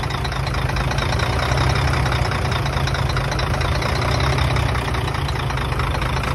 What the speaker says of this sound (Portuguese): Tá aí, pra quem queria ouvir o ronco do bicho.